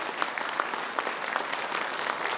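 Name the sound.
audience applause for children at a school function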